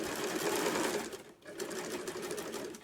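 An electric sewing machine stitches slowly around a round piece of fabric, a soft rapid whirring hum that briefly stops mid-way and then resumes.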